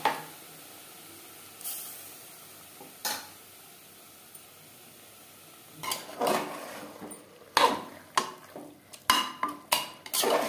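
Mutton with onions and marinade spices is stirred in a pot: a utensil scrapes and clinks against the metal, with sparse knocks at first, then a busier run of clattering strokes toward the end.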